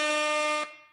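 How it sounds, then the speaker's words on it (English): A single loud, steady air horn blast sounds for about two-thirds of a second on a podcast, then cuts off sharply, leaving a brief fading tail with no talking. "please, we need the air horn"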